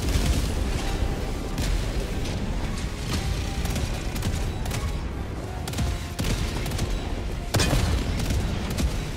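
Heavy 380mm orbital barrage pounding down in Helldivers 2, a dense continuous rumble of overlapping explosions and booms, with sharper blasts breaking through around the middle and near the end.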